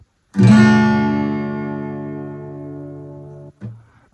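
One strummed acoustic guitar chord rings clearly and decays over a few seconds before being cut short, followed by a brief soft strum.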